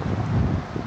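Steady low wind rumble buffeting the microphone, a continuous broadband roar with no voices.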